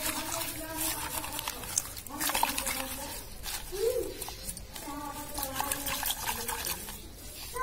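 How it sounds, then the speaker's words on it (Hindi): Rooted ixora cuttings are washed in water, with splashing, swishing and trickling as the roots are rinsed by hand, close and intermittent, while a voice speaks faintly in the background and birds chirp. "तो इन सभी के रूट पहले हम धो लेते हैं अच्छे से।"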